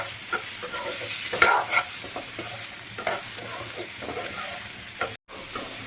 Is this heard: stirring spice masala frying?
yes